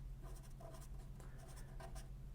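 Writing on a board, with soft scratchy strokes in short bursts over a steady low hum and no speech.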